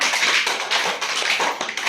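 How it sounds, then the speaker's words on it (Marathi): Hands clap in a quick, even rhythm to a children's action song, a close run of crisp, bright claps with no pauses. "दोन्ही हात हलवा टाळी वाजवा"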